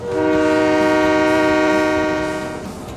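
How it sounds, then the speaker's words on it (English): Train horn blaring loud and sustained as trains arrive in Train Mechanic Simulator 2017, a steady chordal blast holding for nearly three seconds before beginning to fade, with no talk over it. "Hold on, everyone. Trains are coming."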